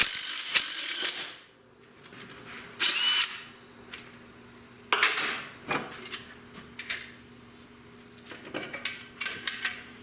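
Hand and power tools remove the turbocharger bolts from a Land Rover 110 engine during a teardown. Sharp ratcheting and whirring bursts come in short, irregular clusters, close and fairly loud, with quiet gaps between them.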